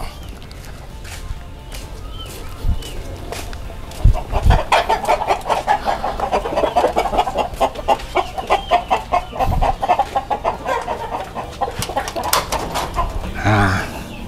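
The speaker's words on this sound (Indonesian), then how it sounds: "kita akan lanjut kasih makan atau kasih makan langsung ke ayam" Free-range laying hens cluck in a steady, busy chorus close by, with repeated short calls building in density, and scattered clunks and people talking under the flock.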